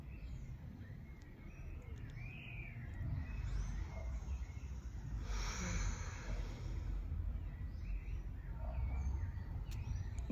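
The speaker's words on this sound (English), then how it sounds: "there's quite a few sounds, so very nice, like birds. It's nice, birdie sounds." Faint birds singing in the distance, a few scattered chirps over a steady rushing background noise.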